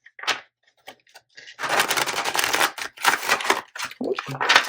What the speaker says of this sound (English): that was not a good shuffle, was it?